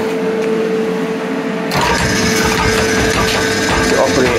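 A large, heavy, badly worn power hacksaw, also called a donkey saw, cutting bar stock in a workshop starts up partway through, its broadband mechanical clatter loud and steady after a quieter hum.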